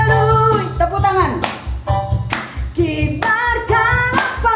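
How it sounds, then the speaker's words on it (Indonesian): A church congregation claps along during Indonesian worship singing, rhythmic hand claps sounding beneath loud sung vocals and music. "Tepuk tangan."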